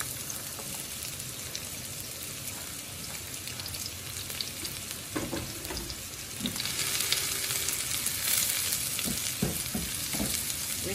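Onion and garlic frying in olive oil in a pan for a ground beef pasta dish, giving a steady, dense sizzle with crackles throughout, which grows a little louder in the second half, and no talking.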